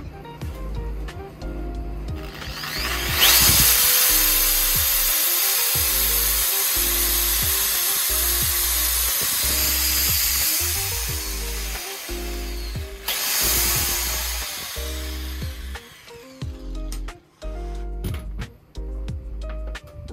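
A 600-watt electric grinder powered by a Bluetti Elite 100 v2 portable power station whirs up loudly to a steady high whine for about ten seconds, then winds down into brief intermittent bursts.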